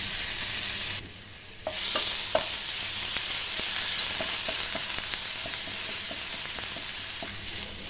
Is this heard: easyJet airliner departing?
no